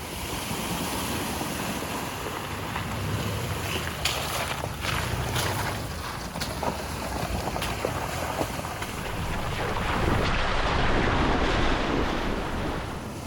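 A truck pushes through a shallow water crossing on a trail between Georgia and Tennessee, with continuous broad rushing and splashing wash mixed with wind buffeting the microphone. The sound swells louder near the end.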